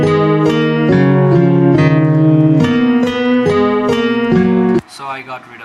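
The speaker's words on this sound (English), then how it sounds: "I got this guitar from Nexus, which is this from Classical Guitar GT Guitar Strummed 1" Strummed classical nylon-string guitar sample from Nexus, a steady run of full chords with bright string overtones, changing chord every beat or so for several bars, then it stops abruptly and a brief, softer, different sound follows.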